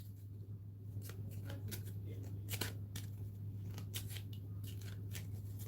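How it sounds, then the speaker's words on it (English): A deck of game cards is shuffled close by in a quiet room, with a run of soft riffles and flicks over a low steady hum. "let's shuffle this back in."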